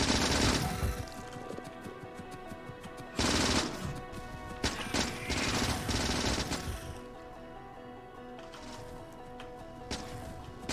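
Gun turrets fire ammo in the factory-building game Factorio, rapid automatic bursts crackling in several clusters over a steady mechanical hum, fairly quiet and without speech.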